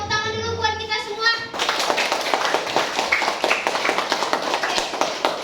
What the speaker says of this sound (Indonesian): Yuk, tepuk tangan dulu buat kita semua.